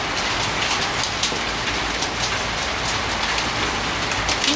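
Hailstones falling during a hailstorm in Ribeirão Preto, Brazil, a dense constant patter and hiss of stones striking surfaces with scattered sharper hits, loud and unbroken throughout.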